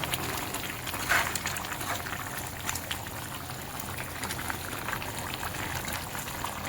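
Potato gravy for white Afghani chicken pulav simmering in a pot, a steady close bubbling and gentle sizzle that stays continuous throughout, with no talking.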